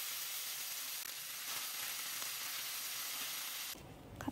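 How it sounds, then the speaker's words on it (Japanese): Pork belly slices frying in a pan give a loud, continuous broadband sizzle that holds steady and then drops abruptly near the end to a softer hiss. "豚バラをどんどん入れていきます。"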